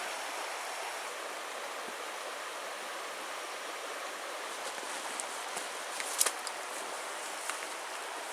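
A small river on a backpacking trail in the Porcupine Mountains, Michigan, gives a steady, even wash of rushing water, soft and somewhat distant, with a few faint clicks and rustles and no talk.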